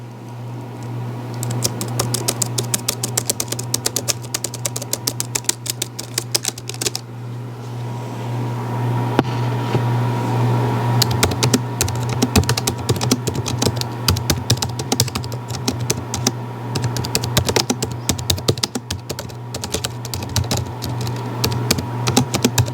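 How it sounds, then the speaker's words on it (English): Typing on a wireless Bluetooth membrane keyboard with scissor keys, a steady run of soft, quick clicks close up over a low constant hum, with no talk. "So this is a membrane keyboard with the scissor keys mentioned before, and it's really silent"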